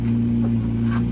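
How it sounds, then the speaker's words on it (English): A motorcycle engine idles with a loud, steady low drone and a constant hum throughout, close by. "He started this goddamn motorcycle."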